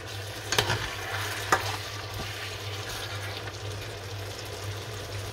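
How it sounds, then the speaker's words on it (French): Potatoes and chicken sizzle gently in a pan, a steady soft frying hiss with two sharp clinks of a spoon stirring early on, over a constant low hum. "Et on mélange, on laisse cuire gentiment."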